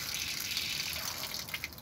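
Water gushes from a solar water heater line just after the shut-off valve is opened, a loud, close, constant rush with a couple of brief spurts near the end.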